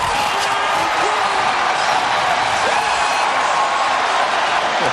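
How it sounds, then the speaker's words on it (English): A huge stadium crowd of Brewers fans roars and cheers as the team clinches a playoff spot in 2008, a continuous dense wash of voices that stays loud and unbroken throughout. "That is the crowd."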